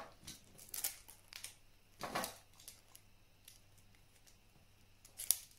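Scissors cut stiXskin laminate for two-section carbon fibre Nordic walking poles, giving a few quiet, separate snips and crisp rustles close by in a hushed room.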